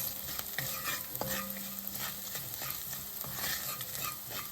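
Spiced masala dosa potato filling ingredients with turmeric and hing are sautéed in a pan, a steady sizzle under constant scraping and stirring, with no talk.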